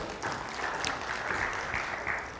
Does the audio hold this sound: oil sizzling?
no